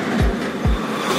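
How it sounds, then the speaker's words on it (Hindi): A car being driven, with a steady wash of road and cabin noise and two deep, low thumps as it rolls along. "गाड़ी चला रहा हूं"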